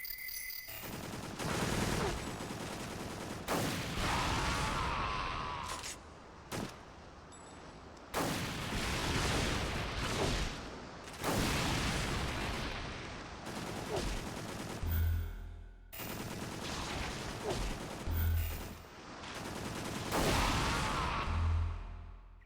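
Gunfire from the PS2 game Extermination fills the stretch in sustained bursts of rapid shots with brief pauses, loud and close, alongside low thumps and game noises.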